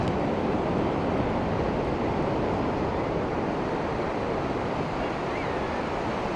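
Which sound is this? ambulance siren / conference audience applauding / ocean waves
ocean waves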